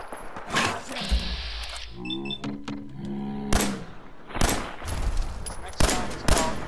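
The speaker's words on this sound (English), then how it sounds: "Hey, why is he shooting me for?" Gunfire in the video game Fallout 4: several sharp, loud shots and bursts arrive irregularly over about seven seconds, mixed with other game sound effects.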